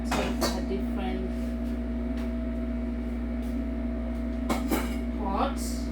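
A cooking pot being pulled out and handled in a home kitchen before frying lamb tripe, with a few sharp metallic clanks and knocks over a steady hum while a person talks.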